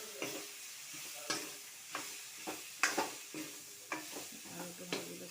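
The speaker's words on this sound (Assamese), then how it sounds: "আলুটো ভাজি লৈছোঁ অলপ শুকানকৈ, ড্ৰাই কৰি লৈছোঁ ড্ৰাই।" Potatoes with onion and turmeric frying fairly dry in a pan, with a steady sizzle broken by repeated scraping stirs of a spatula, close and moderately loud, no talking.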